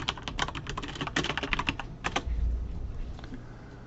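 A name is typed on a computer keyboard as a Gmail or Outlook email signature is set up: quick, close key clicks in an irregular run that slows and thins out toward the end.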